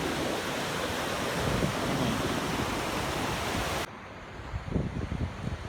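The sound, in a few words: ocean waves at San Buena Ventura Beach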